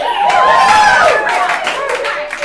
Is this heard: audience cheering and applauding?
yes